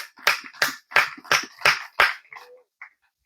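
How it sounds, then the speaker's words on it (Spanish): A church congregation at a Spanish-language Sunday service in Cotulla, Texas claps in six loud, evenly spaced beats, then a couple of faint trailing claps as the sound fades to silence. "Un aplauso al Señor."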